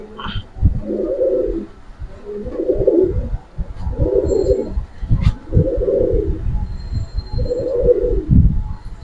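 Giribaz pigeons cooing in a steady series of about five soft, rounded coos at regular intervals, close by, with faint background noise and no talk.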